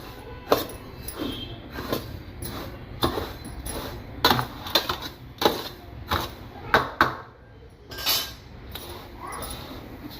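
A utensil scrapes and clinks against a pan while roasted fennel seed mukhwas is stirred, giving a series of irregular sharp metallic knocks and rattles, close and fairly loud with quiet gaps between.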